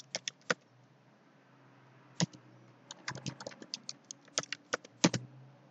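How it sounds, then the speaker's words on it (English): Password being typed on a computer keyboard in a quiet room: a few sparse key clicks, a pause, then a quicker irregular run of close, crisp keystrokes. "type the password,"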